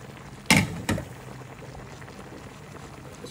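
Sliced string beans (sitaw) drop into a hot pan for ginataang sitaw with ham, giving two quick splashy hits followed by a steady soft sizzle.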